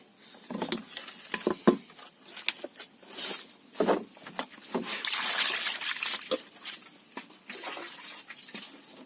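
Water trickles and splashes in short bursts as freshly harvested fish gills and innards are rinsed by hand in an outdoor home kitchen, with close dribbling and patter throughout and no talking.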